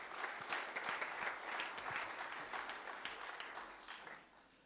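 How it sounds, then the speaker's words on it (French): Audience at a startup contest applauding a speaker, steady moderate clapping from a room of people that gradually thins and fades out. "on peut l'applaudir."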